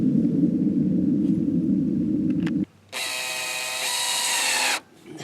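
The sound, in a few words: power drill driving screws into greenhouse door hinges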